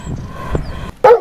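A single short dog bark or yap near the end, loud and close, after a stretch of low rumbling background noise.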